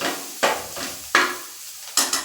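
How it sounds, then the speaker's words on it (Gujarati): Potato paratha filling is stirred in a pan with a spoon, giving three or four sharp scraping strokes spaced a moment apart over a faint sizzle, close by and with no speech. "હવે મિશ્રણ છે તે બરાબર મિક્સ કરી લેશું"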